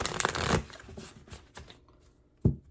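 A tarot deck is shuffled by hand in quick riffling bursts of card flutter, then a pause and one final sharp snap as the cards are tapped together, close and crisp.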